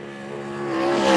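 A Time Attack race car at Greenstone Park, with the throttle floored across the finish line, its engine note climbing louder and higher as it accelerates closer, alone with no talk.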